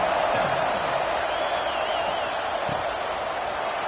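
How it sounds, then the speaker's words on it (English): A football stadium crowd during a college game between Northwestern and the Wildcats keeps up a broad, even roar after a score. The sound is distant and steady, with a faint whistle-like tone drifting above it. "this crowd is buzzing after that last score"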